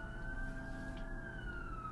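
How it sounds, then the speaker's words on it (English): An ambulance siren passes outside, a faint, steady wailing tone heard from a distance over a low background hum. "It's an ambulance."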